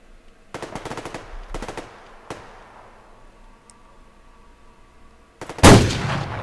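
In the video game Survarium, bursts of distant automatic gunfire rattle in quick clusters, then a much louder, close shot booms near the end over a quiet backdrop.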